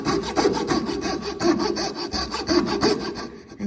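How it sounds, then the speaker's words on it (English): A hand saw that cuts on the back stroke works through soft pine for a night light, giving a fast steady rasping rhythm of about a dozen close, loud strokes. "So this saw is different to the tenon saw in that it cuts on the back stroke"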